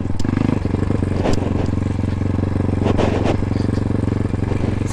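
A motorcycle ridden by a learner pulls away gently as the clutch is released, its engine holding a steady, throbbing drone close by with only a mild rise in revs and a faint clatter over the rumble.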